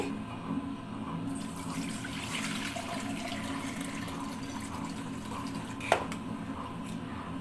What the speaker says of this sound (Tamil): அரிசியில் இருக்கிற இந்த தண்ணியை வடிகட்டி